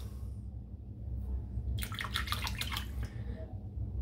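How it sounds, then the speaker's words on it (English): A razor is rinsed under running tap water while shaving, a brief splashing gush of a little over a second against a quiet, low background hum. "Just rinsing off easily off the razor"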